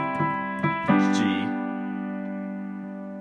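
Solo piano plays a short right-hand melody line from twenty one pilots' "Migraine", a few struck notes climbing into a sustained chord that rings and slowly decays, close and clear with no talking.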